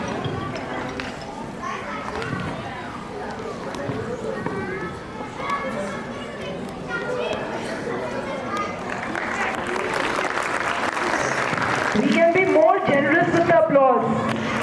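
Audience clapping at a play school annual day function, a steady moderate wash of applause mixed with children's chatter and crowd noise, swelling louder near the end.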